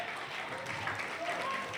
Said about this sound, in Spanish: un aplauso fuerte. en esta noche.